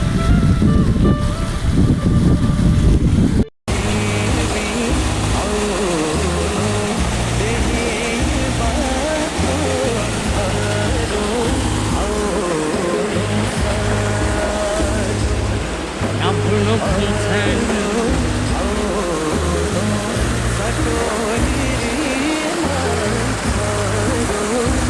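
Water pours steadily through a wooden channel at a village water mill, a loud continuous rushing and splashing that fills the whole stretch after a brief cut near the start.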